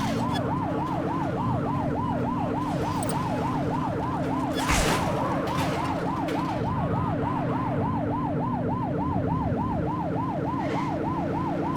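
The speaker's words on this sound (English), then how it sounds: "They won't know if you want to pull them over if you don't turn your siren on." Police car siren in the video game The Precinct, a loud continuous rapid wailing yelp cycling over a steady engine drone, close and unbroken throughout.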